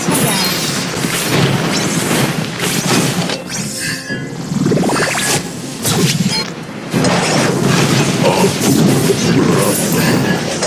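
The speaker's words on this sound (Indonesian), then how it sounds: "Your team destroyed the turret." A turret is destroyed in the Mobile Legends battle arena game: a loud, continuous barrage of booming, crashing explosion and impact sounds with metallic clinks and a sweeping rise in the middle, up close and busy throughout.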